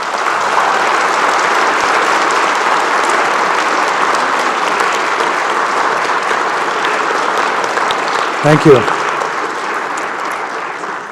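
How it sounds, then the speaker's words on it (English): Sustained applause from a convocation audience fills the hall steadily throughout, with a brief spoken word from a voice near the end over the clapping. "Graduates, a round of applause."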